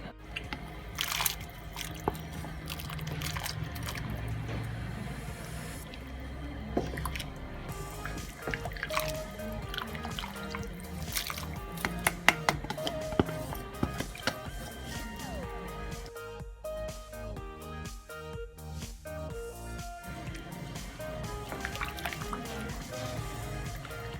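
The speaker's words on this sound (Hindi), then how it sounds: "अब इसमें जब यखनी के बाद हम इसमें डालेंगे मकई के दाने और मटर छान के।" Strained corn kernels and peas tipped into a pot of chicken vegetable soup: continuous wet trickling, dripping and squishing, fairly faint and close, running steadily for over twenty seconds.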